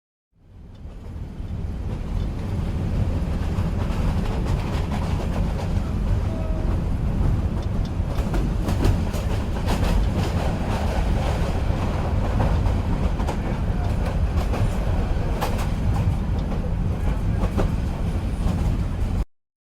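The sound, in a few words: train travelling on rails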